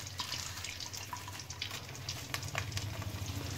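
Whole red chilies and asafoetida fry in hot oil, a continuous close crackling sizzle with fine pops and spits throughout.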